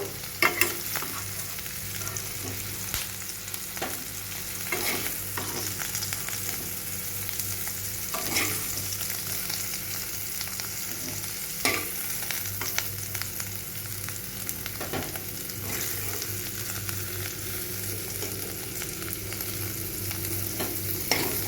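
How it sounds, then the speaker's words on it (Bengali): Cauliflower florets fry in hot oil in a pan for a Gondhoraj cauliflower recipe. A continuous close sizzle runs throughout, broken by repeated scraping clinks of stirring, with no one speaking. "ফুলকপিগুলো সব হালকা লাল করে ভাজা হয়ে গেছে"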